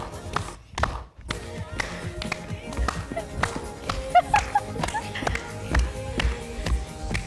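Steady rhythmic hand claps from a group during an exercise session, mixed with footfalls and shuffling over background music, with a brief dip near the start before the clapping resumes.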